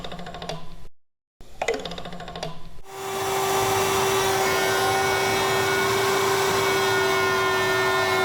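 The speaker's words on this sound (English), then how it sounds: "You should be able to hear that little rippling noise that they make." A steady loud table saw whine with a constant tone, following a few bursts of rippling, rattling clicks near the start as SawStop featherboard fingers flex against a passing board.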